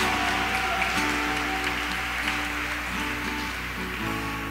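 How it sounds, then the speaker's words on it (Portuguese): Church congregation applauding during a Catholic prayer gathering, a moderate wash of clapping over a sustained organ-like tonal drone with a bass line underneath. "Vamos aplaudir isso em nome de Jesus."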